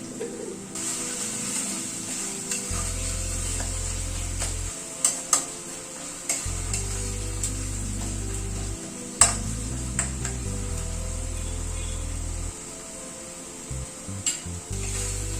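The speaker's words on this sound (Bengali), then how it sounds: "মিনিট 3-4 সময় ধরে মশলাটাকে কষিয়ে নিলাম" A spice masala with garam masala and salt is stirred in a pan for a rajma dish. Irregular spatula scrapes and clicks sit over a faint sizzle, with steady low background music throughout.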